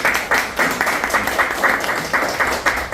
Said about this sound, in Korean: 우리 박수 한번 해야 됩니다.